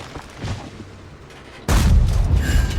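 Tank cannon shots in World of Tanks, a loud, sudden booming blast that starts partway through and rolls on with a heavy rumble, following quieter in-game sounds.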